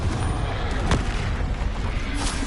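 Spell-casting explosions going off during combat in the video game Hogwarts Legacy, a dense run of booming blasts and crackling impacts, with one sharp burst standing out near the middle.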